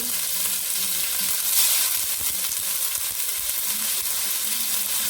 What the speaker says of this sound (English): First I'm going to fry up this tomato.